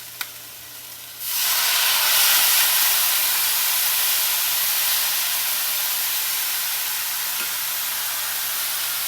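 White wine hits a hot pan of seared scallops, and after a brief quiet moment a sudden loud, steady hiss and sizzle erupts, then slowly eases while staying strong.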